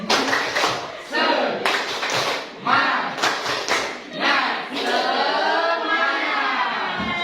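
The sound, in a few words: group rhythmic clapping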